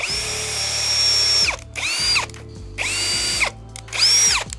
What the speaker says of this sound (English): Drill our pilot holes.